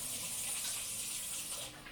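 Tap water runs steadily as hands are rinsed in a home kitchen while cinnamon rolls are being made, a soft, even, fairly faint rushing stream.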